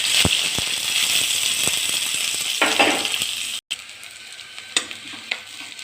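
Onions sizzle steadily in hot oil with panch phoron, with scattered stirring clinks and a brief dropout midway, while cooking a Malabar spinach dish.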